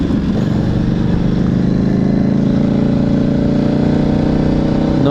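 A 2009 Buell 1125R motorcycle pulls hard under acceleration, lifting its front wheel, with a loud, continuous engine drone that holds steady from close by, no voices.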